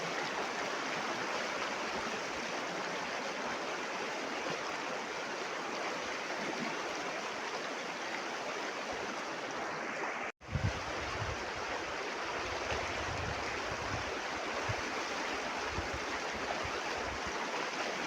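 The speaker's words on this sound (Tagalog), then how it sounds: "Malakas ang agos." A river rushing steadily with a strong current, loud and continuous broadband water noise, with a brief dropout partway through.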